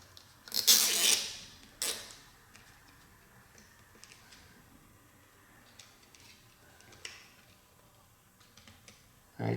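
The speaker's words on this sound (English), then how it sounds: "So I'm putting a zip tie." A nylon zip tie is pulled tight as strain relief on a metal detector's remote battery cable, giving a close, rapid ratcheting burst and a second short zip, then only faint scattered clicks.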